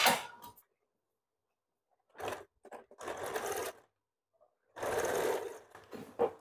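A sewing machine stitches blouse fabric in short close bursts, with runs of rapid whirring stitches separated by pauses of silence as the work is guided a little at a time.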